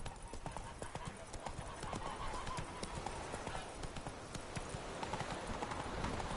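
Video-game horse galloping in The Witcher 3, a fast, quiet run of hoof clip-clops with a faint whinny, low in level and steady throughout while someone talks over it.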